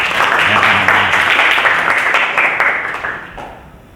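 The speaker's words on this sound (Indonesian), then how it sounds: "tepuk tangan untuk Lutza" A classroom of students applauds a classmate named Lutza during a sociology lesson, a loud burst of clapping that holds steady and then fades out toward the end.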